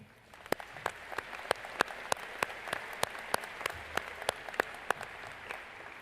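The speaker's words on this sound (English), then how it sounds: "let's take a minute to applaud our amazing staff" Audience at a school graduation applauding the staff, but the clapping is sparse: a few loud, distinct hand claps at a steady pace stand out over a soft spread of scattered clapping, with no talk.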